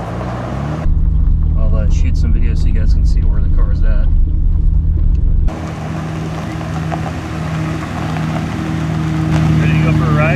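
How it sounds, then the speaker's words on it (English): A Nissan Skyline GTR with Ohlins DFV dampers and soft springs rolls over gravel, its steady low engine and road rumble droning throughout, louder in the opening seconds, while someone talks over it. "I'm driving in the gravel and it's not too bumpy"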